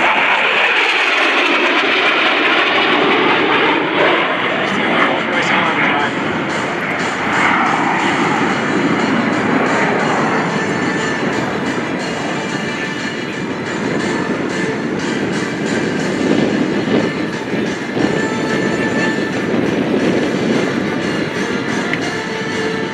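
An AV-8B Harrier II jet at a military air show roars continuously and loudly, its engine whine and rumble shifting in pitch as it passes, no voices.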